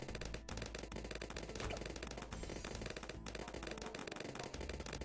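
Rapid, dense minigun fire from the Bloons TD tower defense video game rattles continuously and loudly, with a short pause in the middle before the barrage resumes.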